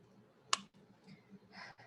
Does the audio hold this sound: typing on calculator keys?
yes